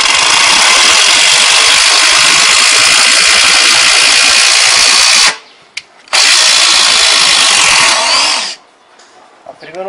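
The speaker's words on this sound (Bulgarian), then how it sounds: "Гайковерт с максимална скорост." A Makita DTD170 18V cordless impact driver-wrench running at maximum speed gives a loud, continuous high-pitched whirring and hammering. It stops once briefly, then starts again before winding down.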